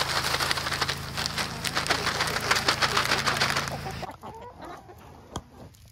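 Chickens and roosters cluck busily together at close range in a farmyard, a dense steady flock chatter that cuts off abruptly, leaving a quieter stretch with a few scattered calls.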